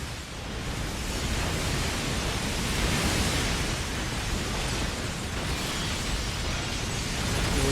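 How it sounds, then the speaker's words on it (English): Bomb blasts in the action game Metal Gear Rising: Revengeance form a loud, continuous roar of rumbling explosions and noisy bursts that swells around the middle and holds steady throughout, with no voices. "Queste bombe di merda."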